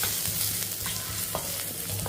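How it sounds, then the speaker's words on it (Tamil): Garlic and cumin sautéing in ghee in a kadai, a steady close sizzle with light stirring scrapes running through the whole stretch, no voices. "லைட்டாக இதை வதக்கிக்கிடுவோம்."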